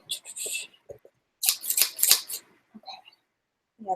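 Dull fabric scissors chew through fabric in a short cluster of crisp, crunchy snips, with people talking before and after the cuts.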